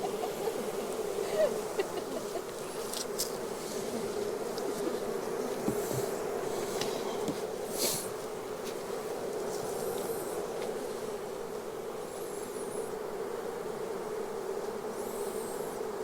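Honey bees swarm around an open hive during a beekeeping session, a steady close buzzing hum with individual bees zipping past the microphone.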